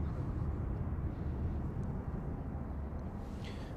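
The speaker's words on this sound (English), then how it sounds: "This is EasyJet CT36 from Copenhagen, GEZWC A320 Classic." An EasyJet Airbus A320 Classic on short final to runway 05 left at Manchester Airport, arriving from Copenhagen, gives a steady, fairly faint low engine rumble throughout with no talk.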